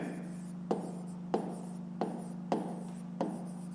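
Pen strokes on paper during a fifth-grade math lesson, five separate scratchy writing taps at an uneven pace, quiet and close, over a faint steady hum with no talking.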